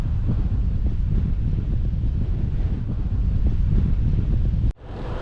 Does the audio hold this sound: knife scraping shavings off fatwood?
no